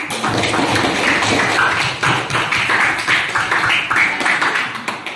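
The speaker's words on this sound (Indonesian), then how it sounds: "Aplaus dulu untuk diri." A classroom of students claps together after their group presentations. The burst of applause is loud and close, steady and continuous for about five seconds, and nobody speaks over it.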